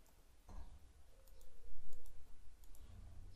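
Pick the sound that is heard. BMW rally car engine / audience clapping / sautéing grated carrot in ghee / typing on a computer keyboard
typing on a computer keyboard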